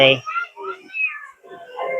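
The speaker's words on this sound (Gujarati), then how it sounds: "હવે તો મીંદડી નું બચ્ચું ના આવી ગયું છે" A kitten gives short, high meows that come and go over about two seconds, mixed in with a person talking nearby.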